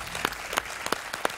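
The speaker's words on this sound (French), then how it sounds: "Oui, moi aussi j'applaudis." Sparse applause on a TV quiz show set, a handful of distinct nearby claps spaced unevenly over a low background hum.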